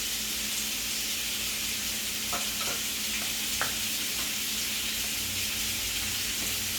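Shrimp cook in a pan for Southern shrimp and grits, giving a steady, even sizzle throughout with a few light clicks of stirring or utensil taps in the middle, close and without speech.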